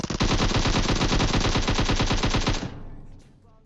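In PUBG Mobile, a loud, close automatic gun fires one rapid continuous burst of evenly spaced shots for about two and a half seconds, then cuts off and fades.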